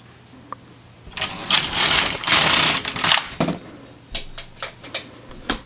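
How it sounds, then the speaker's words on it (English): An LK150 knitting machine knitting short rows, its carriage swept across in a loud clattering pass followed by a few sharp separate clicks and knocks from the needles. "pull it down and knit"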